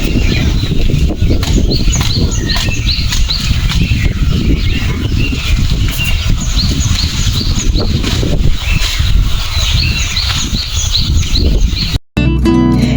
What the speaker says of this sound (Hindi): चिड़ियों की चहचहाट ऐसे दिल को सुकून देने वाली होती है।